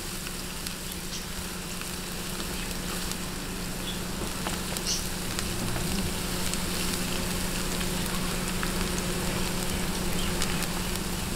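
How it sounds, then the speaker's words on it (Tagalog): Garlic sautés in a pan of oil with a steady, soft, close sizzle and faint crackles, continuous and even with no voice over it. "ngayon, gisahin na po natin ang ating garlic"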